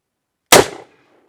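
A single sharp, loud shot from a Cimarron .44 Magnum revolver rings out close by after a moment of silence, then decays quickly.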